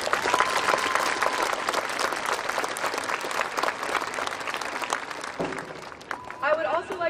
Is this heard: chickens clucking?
no